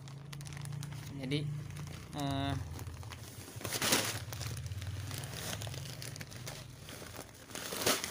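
A heat-sealed plastic rice bag crinkles and rustles as it is handled, with irregular crackling throughout while someone talks over it.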